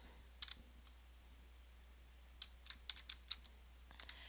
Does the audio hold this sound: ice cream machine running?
no